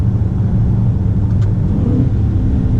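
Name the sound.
Dodge Challenger Scat Pack Widebody engine revving on downshift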